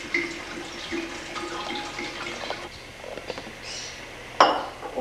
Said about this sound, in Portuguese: Vamos colocar a água que está nesse recipiente